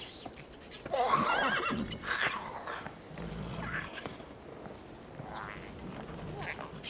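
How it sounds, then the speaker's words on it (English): A horse in The Witcher 3 video game whinnies over faint hoof clip-clops, with brief scattered whinnying calls heard against background game sounds. "No wonder the horse has been so goddamn unresponsive with me."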